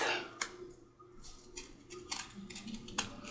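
Sewing scissors snip repeatedly, trimming a paper edge for a handmade journal, several short crisp cuts in an uneven rhythm, close and quiet with no voices.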